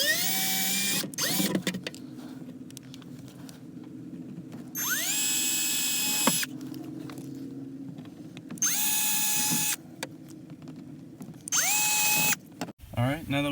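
A power drill bores through a thin plastic panel during a Jeep Cherokee molle panel install, with several short whining bursts separated by pauses, close up, and a quieter background hum.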